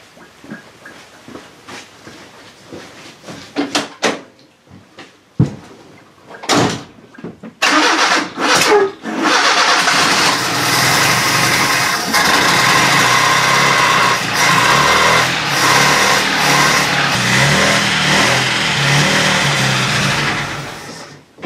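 A car engine with a newly changed fuel pump cranks and catches after a few sputtering attempts, then runs steadily at a rough, loud idle close by.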